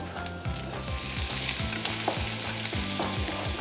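Onion, ginger and garlic fry in a pan with a dense, close sizzle and crackle, with low rhythmic scraping of a spoon moving through them, and no voices.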